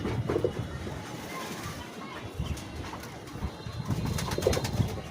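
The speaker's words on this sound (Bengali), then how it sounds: "এই কবুতরগুলো হচ্ছে বাসিরাজের বাচ্চা।" Young Basiraj pigeons cooing at a pigeon farm, soft low coos repeating through steady background noise with a few rustles, no talking.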